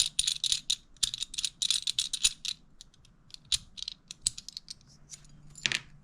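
Small metal nuts are turned and shifted inside a metal nutcase puzzle, making close clicks, rattles and light metallic scrapes in irregular bursts with quiet gaps, ending in a sharper clack.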